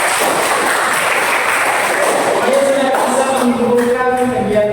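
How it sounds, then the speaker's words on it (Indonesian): Applause from a classroom audience during an Islamic religious education teaching session, a steady wash of clapping lasting the whole stretch, with faint voices emerging toward the end. "Oke, aplaus dulu."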